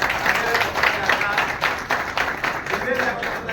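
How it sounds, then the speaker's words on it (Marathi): A crowd applauds at a police retirement ceremony, a sustained wash of hand claps in a hall, fairly close and steady, with a voice talking over it. "तुमच्या टाळ्या म्हणजे त्याला सॅल्यूट असेल, जरा जोरदार टाळ्या"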